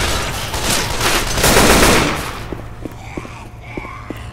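Assault rifle fire in the zombie shooter Left 4 Dead 2 rattles in a loud, dense burst, then thins into a few separate sharp shots against quieter background game noise.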